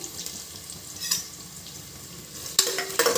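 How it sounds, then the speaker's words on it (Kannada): Sliced onions with bay leaf, cinnamon and cloves frying in plain oil for a potato biryani, a steady close sizzle with stirring scrapes and a sharp utensil clatter near the end. "ಇದು ಈರುಳ್ಳಿ ಒಂದು ಸ್ವಲ್ಪ ಗೋಲ್ಡನ್ ಕಲರ್ ಬರೋವರೆಗೂ ಫ್ರೈ ಮಾಡ್ಕೊಳ್ಳಿ."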